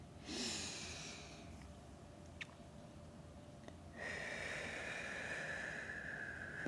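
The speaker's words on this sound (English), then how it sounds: "Take a deep breath right here." A deep breath taken in a yoga forward fold, heard as a close, airy inhale and exhale with a brief hiss, then a sustained breathy rush over a quiet room.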